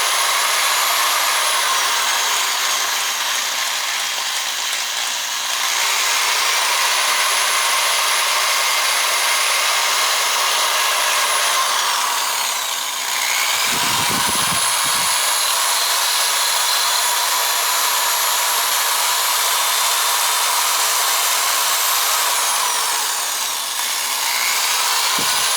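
A power tool polishes an RCBS 9mm reloading die, giving a loud, steady, close-up whine with a continuous rough hiss that dips briefly midway, then carries on unbroken.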